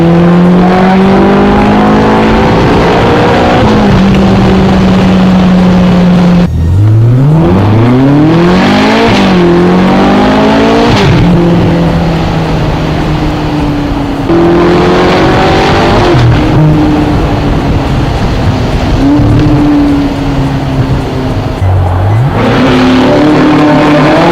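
A Ferrari engine roars loud and close as the car is driven hard, revving up and down through repeated acceleration and gear changes, with faint tire noise and no talk.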